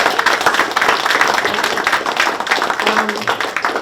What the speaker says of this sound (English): let's give Gabriella a round of applause and thanks